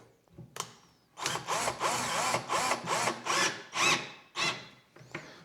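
A small power drill driving screws into a TV cabinet: several short whirring bursts in a row, each rising and stopping, close by, with a brief higher whine before and after and no talk.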